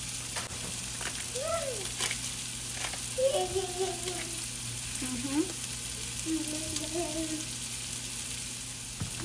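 Pork sisig, seasoned with a citrus pepper spice mix, frying in a pan and being stirred, giving a continuous close sizzle with intermittent scraping, while a few faint whistling or chirping tones sound in the background.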